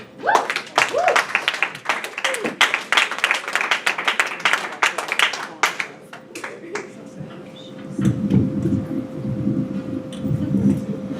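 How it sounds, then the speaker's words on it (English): A comedy club audience breaks into loud, dense applause for the next comic, the clapping thick for about six seconds before thinning out as a voice starts talking underneath. "put your hands together for our next comic"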